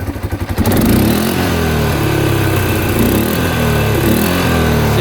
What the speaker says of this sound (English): Just fire it back up. Revving out now.